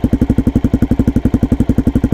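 A Suzuki DRZ400 single-cylinder motorcycle idles at about 1,400 rpm, giving a loud, close, evenly spaced chugging thump that repeats steadily throughout.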